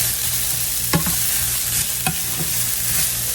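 Spinach wraps cooking in a pan alongside sausage, giving a steady broadband sizzle with a few sharp clicks of a utensil stirring and scraping, close and continuous, no talking.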